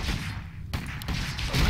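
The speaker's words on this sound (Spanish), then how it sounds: "Le pegamos así un cañonazo." Cannon fire in the Warcraft III human campaign, a sharp blast followed by a second, briefer crack, then rumbling battle noise.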